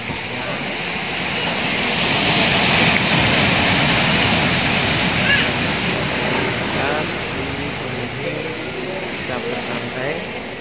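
Steady roar of surf washing onto Jasri beach, a continuous broad rush rising and easing slightly, with faint voices underneath.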